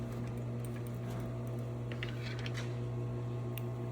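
A sewing machine runs steadily while back stitching, giving a close, continuous mechanical hum and rapid needle ticking throughout.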